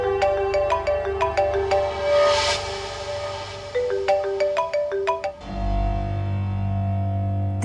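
A mobile phone ringtone plays a bright, repeating electronic melody of tonal notes, loud and close, continuing steadily before cutting to a lower sustained tone near the end, with no talking over it.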